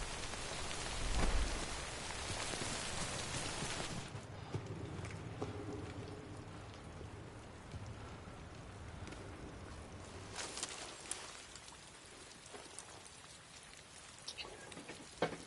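Steady rain in the video game Death Stranding, a dense hiss of falling drops on surfaces that is loud at first, then drops to a softer patter before swelling again, with faint low rumbles beneath.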